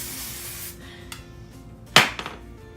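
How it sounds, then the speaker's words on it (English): Texture spray on hair being styled into a half-up curled high ponytail gives one short, bright aerosol burst near the end, after some quieter rustling and a faint tap. "So now I'm gonna take a little texture spray, spray it."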